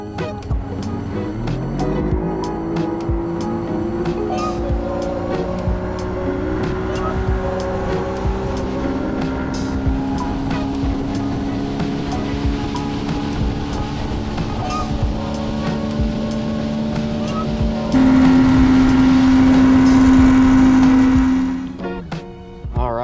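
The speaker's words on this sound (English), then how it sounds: "we got the boat dropped in. We're gonna make a little bit of a run" A fishing motorboat's engine drones steadily up close on the water, its pitch climbing as it revs harder before the throttle suddenly drops off near the end.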